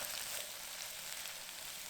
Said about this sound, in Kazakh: Грамм сары май қуырғыш табаға ертіп, пиязды салып жіберіңіз. Жақсылап қуыру керек.